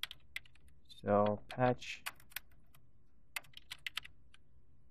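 Keystrokes tapping on a computer keyboard to type a search into Google, a few clicks at a time in a quiet room, with a short burst of speech in the middle.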